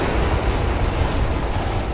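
Gunfire in the co-op zombie shooter Sniper Elite Nazi Zombie Army, a dense loud roar of blasts and rumble filling the whole stretch without pause, close and overwhelming.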